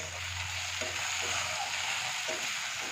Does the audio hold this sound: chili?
yes